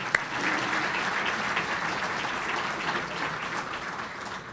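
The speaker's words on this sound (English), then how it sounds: "Let's give them a round of applause for their support." An audience at a county State of the County presentation claps steadily, a dense, even applause that holds for several seconds before easing slightly at the end.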